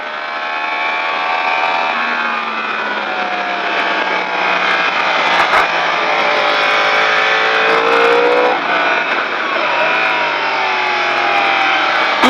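A vehicle at the Le Vigeant race track straightening out and accelerating hard out of a corner, engine revving loudly with pitch climbing through gear changes, steady and close for the whole stretch with no voices.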